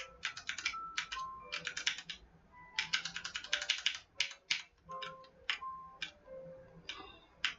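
Rapid clicky keystrokes in bursts with short pauses, crisp and close, like fast typing on a mechanical keyboard; no voices.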